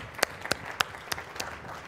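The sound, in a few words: audience applause for event staff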